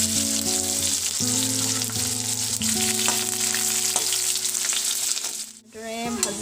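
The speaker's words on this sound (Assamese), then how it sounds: "আৰু এতিয়া আমি ইয়াতে দি দিছোঁ কাটি লোৱা পিঁয়াজ আৰু শুকান জলকীয়া।" Chopped onion and dried red chilli frying in oil with cumin seeds, a loud, close, steady sizzle. A low sustained hum runs underneath, and a brief dip comes near the end.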